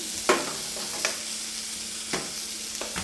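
Vegetables sizzle in a pan while a spoon stirs them, a constant frying hiss broken by four or five sharp scraping clinks at irregular intervals, close and without speech.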